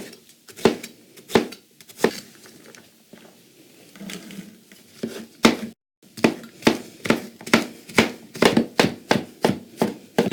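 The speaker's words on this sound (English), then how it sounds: "start chopping up the rest of the vegetables" Rapid knife chops on a cutting board, sharp close taps in quick bursts, pausing briefly before a steady, rhythmic run of chopping.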